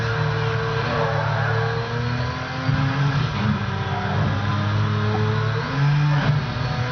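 A car engine in the racing video game Midnight Club LA revs up and down in repeated surges, its tone climbing and dropping between gear changes, loud and close with no talk.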